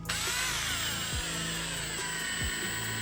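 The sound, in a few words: power drill driving screws into BMW G20 bumper lip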